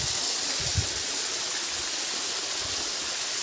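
A strong waterfall pours in a steady, dense roar of rushing water, loud and close, with a low thump near the start and no voices.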